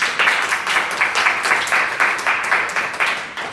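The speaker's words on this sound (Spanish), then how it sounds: "Vamos a darle un aplauso a la Virgen." A congregation at a religious gathering claps steadily in unison for the Virgin Mary, a close, even rhythm of sharp claps that runs the whole stretch with no talk over it.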